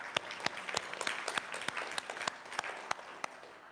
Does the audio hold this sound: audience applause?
yes